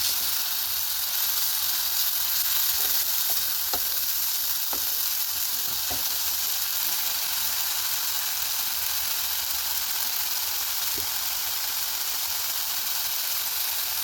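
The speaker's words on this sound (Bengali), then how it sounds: "টমেটোটা ভালো করে কষাবো যাতে কাঁচা গন্ধটা চলে যায়।" Tomato paste frying in a pan for prawn malai curry, an even, sustained sizzle with occasional light spatula taps early on, no voices.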